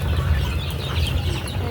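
Five-month-old chickens kept for egg laying cluck in a steady noisy flock close by, with continuous background hum and no clear talk.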